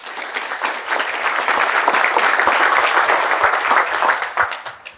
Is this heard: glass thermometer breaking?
no